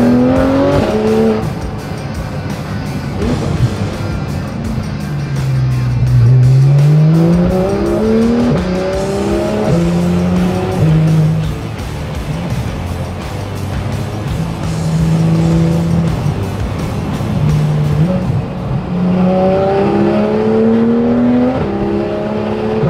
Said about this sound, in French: Voilà où est le plaisir de la GT3 RS sur la route. Le son.